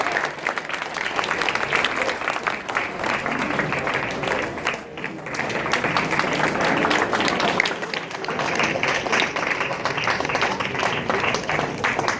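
Loud, sustained applause from a school audience at an annual prize distribution ceremony, dense clapping welcoming the principal and continuing steadily without a break.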